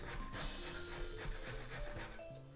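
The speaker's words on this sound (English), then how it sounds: "For the zucchini, I like to just grate it on the side of a box grater, the large side of a box grater." Zucchini is grated on the large side of a box grater, giving quiet, repeated rasping strokes in an even rhythm, heard close up without talk.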